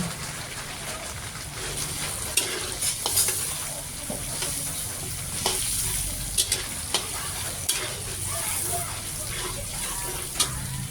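Onion and garlic sizzle in melting margarine in a pan, a continuous crackling hiss broken by occasional sharp clicks and stirring scrapes, with faint voices in the background.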